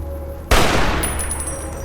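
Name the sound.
gunfire from the video game Fallout New Vegas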